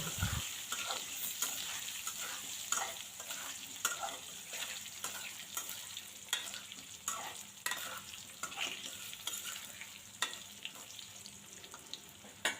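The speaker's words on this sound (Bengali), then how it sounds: "তো আলুগুলো একটু ভেজে নেব" Potatoes fry in a pan with a continuous soft sizzle, broken by regular scraping and clinking strokes as they are stirred, close and unaccompanied by talk.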